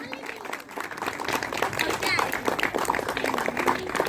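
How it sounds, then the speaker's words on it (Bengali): Audience applause at a cricket prize ceremony for the Legends Cup fair play trophy, steady close clapping from a crowd that builds and holds, with a voice talking over it. "আপনারা সবাই জোরে করে তালি দিন"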